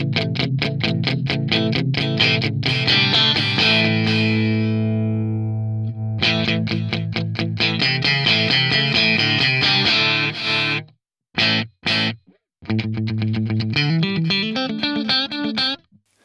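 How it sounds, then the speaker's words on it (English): Distorted electric guitar through a Fractal AX8 delay set with low ducker threshold and high attenuation, rapid picked riffs with held chords and brief gaps of silence, echoes swelling only when the playing stops, loud and up front. "You can hear that when I'm playing with the threshold set really low and the attenuation set quite high, that basically the delay disappears while I'm playing"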